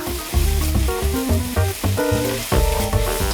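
Tuna and herb fried rice, seasoned with fish sauce, soy sauce and pepper, sizzles as it is stir-fried in a pan, with the frying hiss running under loud, rhythmic background music.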